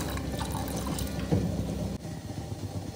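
Water pours steadily into a pressure cooker over chickpeas, a soft continuous splashing and filling sound close by.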